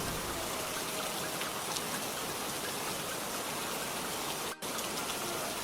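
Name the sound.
rain falling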